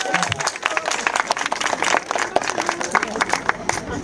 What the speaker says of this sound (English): Give her a round of applause, people.